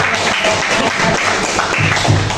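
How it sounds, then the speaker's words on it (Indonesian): Audience applause at a school principal observation event in Bukit Kecil, Palembang: steady, fairly close clapping from a room of people, sustained for the whole stretch. "Sekali lagi kita berikan tepukan yang meriah ya"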